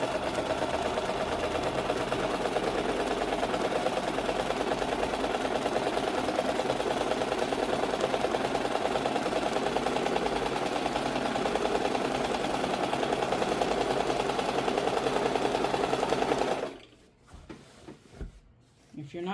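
A sewing machine stitches a quilt seam in a loud, continuous motor whir with rapid needle chatter, running steadily before stopping abruptly near the end, followed by brief quieter handling noises.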